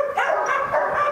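Malinois puppy barking: a few quick, high yappy barks in a short run, close and fairly loud, with no talking.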